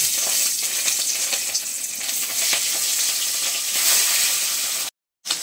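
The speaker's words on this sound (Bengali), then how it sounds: "আমি কাতলা মাছগুলোতে নুন হলুদ মাখিয়ে রেখেছিলাম, এখন সেই মাছগুলো ভেজে নিচ্ছি" Katla fish pieces rubbed with salt and turmeric fry in hot oil, giving a loud, steady crackling sizzle that continues before cutting out abruptly near the end.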